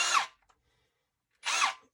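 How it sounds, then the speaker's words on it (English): A power drill with a small bit fitted runs in two short bursts of about a quarter second each, whirring up and cutting off, with a second of silence between them. The work is hanging a shelf in a closet. "let's get this little drill bit in better"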